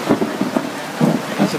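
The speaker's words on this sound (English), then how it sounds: "that's a Thunder" Thunder rumbles during a hailstorm at an off-road rally camp, low rolling booms over the steady hiss of rain and hail hitting surfaces, close and fairly loud.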